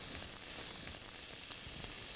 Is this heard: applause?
no